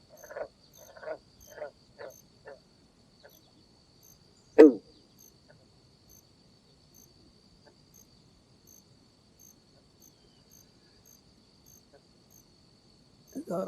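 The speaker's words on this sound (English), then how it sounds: "somebody's answering the bullfrog over there. I think that's a mating call" Bullfrogs calling back and forth in a mating chorus at a pond, with a short series of low croaks, one louder close call, and another croak at the end over a faint, steady insect drone.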